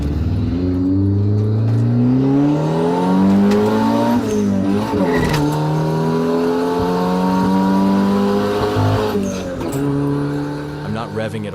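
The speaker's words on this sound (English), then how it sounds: "I'm not revving it all the way to redline, but even so, in second gear, the tires break loose just a little." Turbocharged Honda Civic project car revving hard while driving in second gear, engine pitch climbing and dropping through repeated pulls with a brief tire chirp, loud and close throughout.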